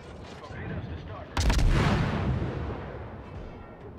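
A warship in a naval video game fires its heavy guns in one sudden loud blast that rumbles and fades over a few seconds, with background game noise before it.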